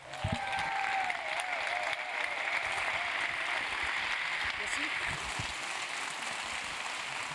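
Steady applause from a crowd at a meditation event for the ocean fills the whole stretch, dense and continuous without letting up, with a faint tonal whine running underneath.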